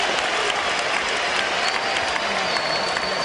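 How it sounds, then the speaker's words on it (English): Arena crowd applauding at a Vitali Klitschko versus Albert Sosnowski heavyweight boxing match, a continuous, even wash of clapping from a large audience with faint cheering mixed in, heard without speech over it. "Well, we get a decent round of applause there."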